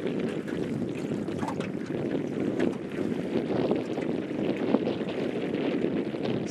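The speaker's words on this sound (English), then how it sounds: "Kind of slow going with these trolling motors" A fishing boat moves slowly across a lake on trolling motors. A steady low rumble blends with wind buffeting the microphone, with no speech.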